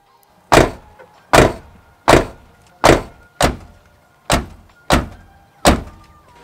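Mazda Miata car door fitted with Delrin door bushings, closed repeatedly: eight sharp, solid thunks at a regular pace of roughly one every 0.8 seconds, each decaying quickly into a quiet background hum.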